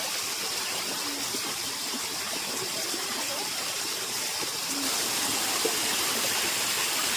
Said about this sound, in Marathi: आमचा असा धबधबा आहे सुंदर